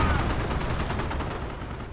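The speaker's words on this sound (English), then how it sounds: "Mortar firing." Mortar fire and gunfire from a war strategy video game rumble as a dense, continuous barrage of overlapping booms and rattling shots, loud and steady throughout.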